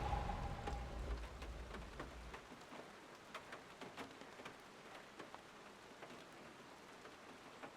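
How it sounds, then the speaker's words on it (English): Rain drums on a truck in the video game SnowRunner, heard from the first-person cab view: a steady patter with sharp, scattered drop ticks. A low rumble at the start fades after a couple of seconds. "When it rains in first person, you hear the raindrops hitting your vehicle."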